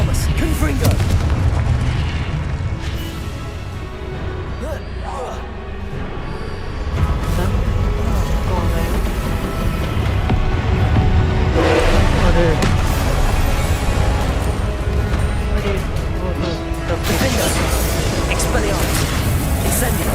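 Confringo explosive curses burst repeatedly during a Hogwarts Legacy duel, with booming blasts and crackles layered over constant spell noise while a person shouts incantations throughout.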